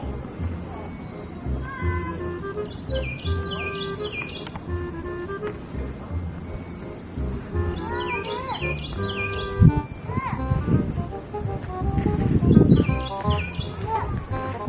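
Repeated bright bird chirps and tweets come in short clusters over a busy background of people and movement at an animal enclosure on an Easter outing, with rustling and a louder bump partway through.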